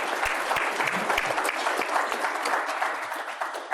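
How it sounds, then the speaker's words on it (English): Audience applause for the panelists at a plant breeding panel discussion, a steady wash of many hands clapping that fills the room for about four seconds without a break. "Can we give our panelists a big round of applause"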